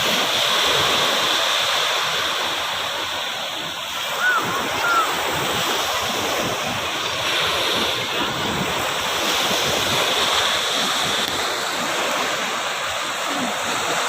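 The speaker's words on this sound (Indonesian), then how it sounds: "Hiburan ombaknya" Ocean waves breaking on a beach at Teluk Asmara, South Malang, a continuous loud wash of surf with swelling roar and wind noise on the microphone.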